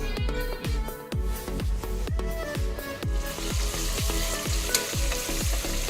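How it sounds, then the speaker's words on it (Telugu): Ginger garlic paste frying in a pan for mutton pulao, a steady close sizzle under a regular beat of spatula scrapes and taps. No voices are heard. "అల్లం వెల్లుల్లి పేస్ట్ పచ్చివాసన పోయేదాకా బాగా వేయించాలి"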